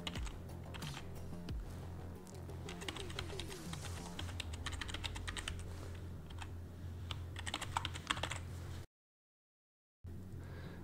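Fingers typing steadily on a computer keyboard, brisk bursts of close key clicks continuing for several seconds before a short silence and a brief resumption.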